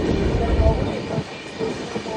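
A passenger train pulls into a station at Tirupati, its rumble and rolling wheels steady and close, with voices in the background.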